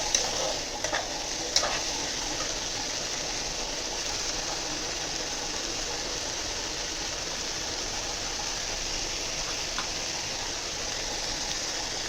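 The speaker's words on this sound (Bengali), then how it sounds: "এবার একটু ফ্রাই হচ্ছে, ভালো করে ফ্রাই করে নেবো।" Chopped tomatoes frying in a pan for a chicken ghee roast and egg masala curry, giving a steady, even sizzle with a few faint stirring clinks near the start, no talking.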